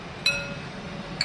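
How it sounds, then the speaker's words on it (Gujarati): Two or three ice cubes drop into a glass of water for a cumin sherbet, making two bright, close glassy clinks about a second apart. "અંદર 2-3 બરફ નાખી દઉં"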